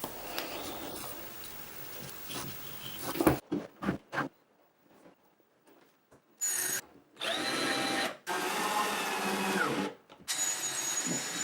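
Power drill driving screws into the layered plywood back fence of a tracksaw crosscut jig, heard as a long whirring run, then a few short bursts after a pause, then several steady loud drilling runs with brief gaps.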